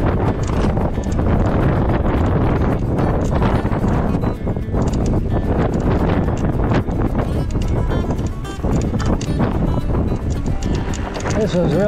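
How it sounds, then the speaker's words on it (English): Strong wind roaring across the microphone outdoors during a water crossing with a trailer in tow, loud and continuous, with someone talking over it. "this is tough with the wind. I can hardly stand here."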